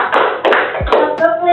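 Several sharp hand claps land close and loud in a quick, uneven sequence in a classroom, with a voice speaking rhythmically over them.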